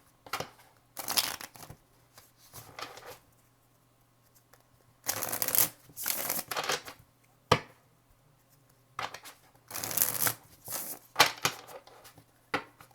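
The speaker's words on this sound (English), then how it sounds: "Last shuffle for Taurus, please." Tarot cards are shuffled in several short riffling bursts, close and crisp, separated by quiet pauses and soft handling taps.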